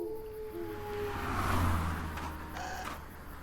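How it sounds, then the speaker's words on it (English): Lone car passing along a country road beside a still forest in a video game: a soft engine whoosh swells and fades over a few seconds, distant and gentle, with faint tonal hums in the background. "A still forest occasionally disrupted by the light and sound of a lone car passing along the nearby country road"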